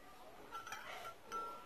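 A teaspoon lightly clinks against a small flea-market teacup while sugar is stirred into red fruit tea, a few faint, brief tinkles over a quiet room.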